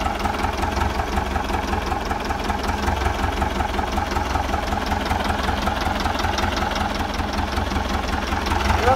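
A 1954 Someca 650 Fiat tractor engine running steadily close by, a loud even knocking chug with constant vibration that does not let up, with faint voices in the background.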